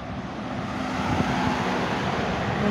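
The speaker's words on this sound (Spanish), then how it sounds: "Pasan muchos coches" Traffic on a street in front of a school in Tacoronte, a steady roadway rumble of cars going by without a break, fairly loud and continuous.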